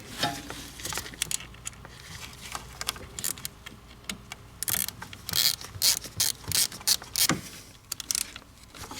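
A ratchet clicks in rapid bursts while tightening a small 3mm bolt on a Saab 9-3 Aero wagon, with close, crisp pawl ticks that come in uneven runs and pauses.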